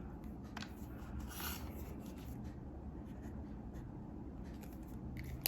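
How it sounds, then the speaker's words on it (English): A pen writing on paper while filling in a weekly household budget sheet, giving a steady soft scratching and rubbing that runs continuously and close, with brief stroke accents and no talk. "Write that in here."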